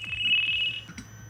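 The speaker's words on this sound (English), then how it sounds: "Someone is calling me on my phone." A phone ringtone sounds for an incoming call, a bright electronic tone that carries for under a second, then breaks into shorter fragments over a soft low hum.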